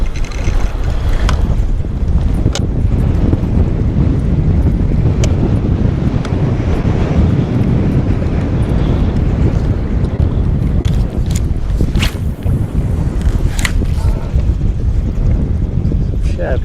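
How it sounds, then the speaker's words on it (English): Steady wind buffets the microphone outdoors during spring bass fishing from a boat, a constant broadband rush with a few faint knocks and splashes, with voices talking. "the wind's blowing my bait around like a potato chip"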